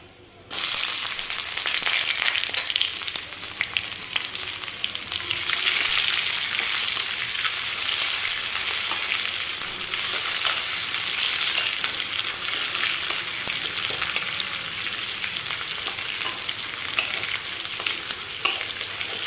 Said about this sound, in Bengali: একটু ভালো করে ভেজে নেওয়ার পরে আমি এর মধ্যে পেঁয়াজ অ্যাড করব